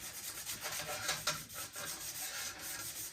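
Steady scraping and rubbing as fine grooves are scratched into a surface on a radial arm saw base ahead of epoxy, continuous and close with slight rhythmic strokes.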